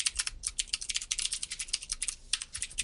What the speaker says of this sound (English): I'm not typing it right